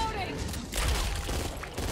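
Rapid gunfire bursts in the zombie shooter game Back 4 Blood, a dense near stream of shots running the whole time beneath overlapping players' voices.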